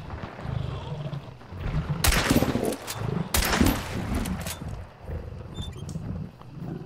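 Gunfire in the game Hunt: Showdown comes as two sharp, loud bursts of shots over a dark ambient rumble, with a voice talking faintly around them.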